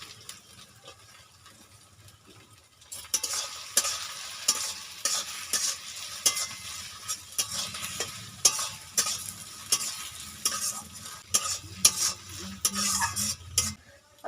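Two chopped tomatoes drop into a pan of frying spices for a tangy dahi aloo dum, setting off a sudden loud sizzle after a quiet start, followed by steady crackling and repeated scraping stirs.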